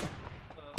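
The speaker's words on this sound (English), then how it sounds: "But like when you shoot with a semi-automatic," A semi-automatic gun fires in the online shooter game Ring of Elysium, with one sharp, brief report near the end of a short, quiet stretch.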